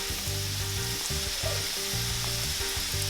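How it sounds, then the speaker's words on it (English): Empanadas fry in hot oil with a loud, steady close sizzle and crackle, a faint rhythmic background tone beneath, no talk. "Right, fry them up."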